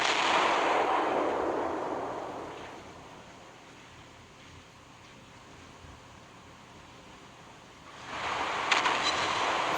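Ship guns firing and shells hitting in the naval video game Naval Creed, a loud booming blast that fades into a low rumble, then a second burst of impacts near the end.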